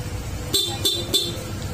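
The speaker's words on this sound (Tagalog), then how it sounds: "naka-stock horn siya with rapid." A Honda ADV 160 scooter's stock horn in rapid mode gives three quick, loud, evenly spaced honks close by, with no talking over them.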